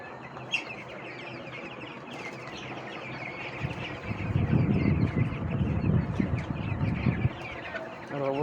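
Broiler chickens on a farm cluck and chatter as a dense, continuous flock murmur, with individual calls rising above it and a louder, busier stretch in the middle, and faint voices at times.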